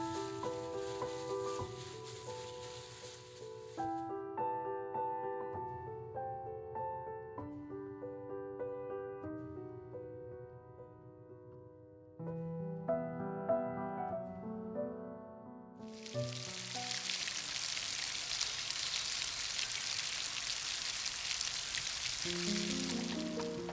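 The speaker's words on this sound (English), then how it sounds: "On medium-high heat, we want to fry them until they develop a golden color just like this." Sugarcane shrimp deep frying in oil over medium-high heat, a steady loud sizzle that rises after a stretch of melodic music and then continues alone to the end.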